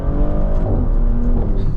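Maserati GranCabrio Trofeo with the Nettuno V6 in sport mode, its exhaust giving a loud, steady engine drone that climbs in pitch as it revs, heard close from inside the car.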